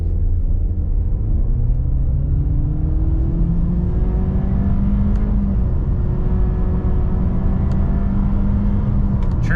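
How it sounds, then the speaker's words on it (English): A 2024 Honda CR-V EX-L with a CVT accelerates hard from 0 to 60 mph, a steady loud cabin drone and engine whir holding a near-constant pitch that gradually climbs, road rumble underneath throughout. "0 to 60, traction's off, we're in normal mode, brake rev the CVT,"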